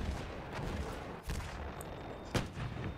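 Martini-Henry rifle fire in the video game Battlefield 1 comes as a few sharp single shots over a dense battlefield rumble. The shots are fairly faint and widely spaced.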